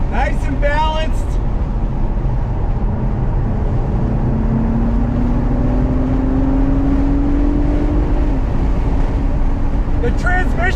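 A 2021 Acura TLX Type S sedan drives under steady engine and road noise, its engine tone rising smoothly through the gears, while a person talks over it inside the cabin.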